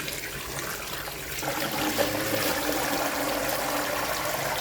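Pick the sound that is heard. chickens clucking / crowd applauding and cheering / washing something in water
washing something in water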